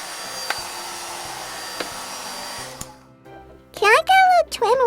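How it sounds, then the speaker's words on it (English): Handheld blow dryer whirring steadily for nearly three seconds with a few clicks, then switching off, followed by a child's high-pitched voice talking. "I'll use this blow dryer to get you all fluffy"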